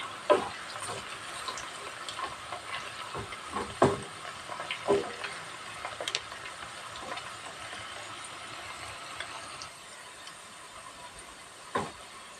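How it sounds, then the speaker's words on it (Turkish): Onions sautéing in a pan for Turkish lentil patties (mercimek köftesi), a steady soft sizzle and hiss with occasional sharper crackles and stirring knocks, close and without talk. "soğan güzelce kavrulsun"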